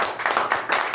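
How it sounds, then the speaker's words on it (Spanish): Audience applause for trumpet players at an orchestra performance, a brief burst of many hands clapping close and fairly loud in a quick uneven rhythm. "Un aplauso."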